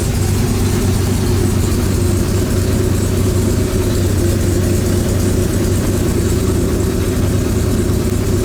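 A 1969 Corvette C3 big-block engine, cold and just revived after nine years, idles steadily and loudly up close, a deep continuous rumble with no pauses.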